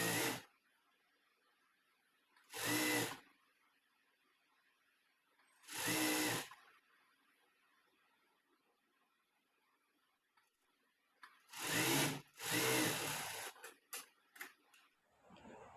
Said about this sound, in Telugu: ఇలా కట్ చేసిన తర్వాత పోగులు అనేవి బయటికి రాకుండా ఫోల్డ్ చేసి కుట్టుకుందాము.